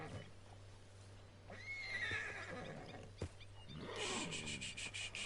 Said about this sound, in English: Pretty sure that's Hosea's horse, isn't it